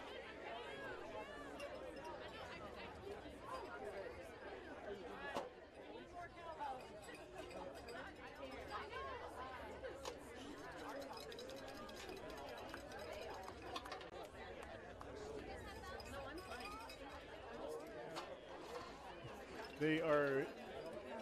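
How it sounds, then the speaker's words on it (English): Crowd chatter fills the stands at a high school boys lacrosse first-round playoff game between Manogue and Spanish Springs, a steady murmur of many voices with occasional louder shouts and clinks, and a brief louder burst near the end. "But we got quite a crowd here tonight."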